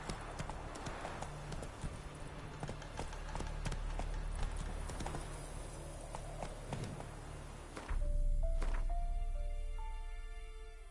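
Roach, a horse in The Witcher 3, gallops in rapid rhythmic hoofbeats, close and clear, before the pace breaks near the end into game sounds with a rising tonal cue, with no speech heard.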